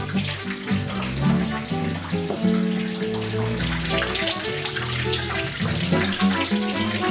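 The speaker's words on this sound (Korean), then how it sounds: "멋모르고 밟은 안반에서 남성용 소변기 물줄기가 쏟아지고" Water gushes from a men's urinal set in a stone-built, caveman-themed hotel room on California's Central Coast. The stream is a steady rushing spray that runs under background music.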